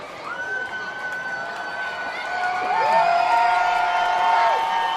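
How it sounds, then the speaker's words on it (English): Baseball crowd at the Duck Pond stadium cheering and whooping, a steady roar that swells in the second half, with a few sustained whistles or horn-like tones over it. "Crowd making some noise here at the Duck Pond"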